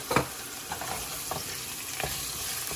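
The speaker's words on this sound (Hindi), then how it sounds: "ऑयल में गर्म हो गया हमारा ऑयल और ये अब इसको थोड़ा सा मैं फ्राई कर लूँगी" Ginger and garlic frying in hot oil as the base for a creamy black pepper chicken produce a steady close sizzle, with a sharp stir or clatter at the start and a few softer ones after, no voices.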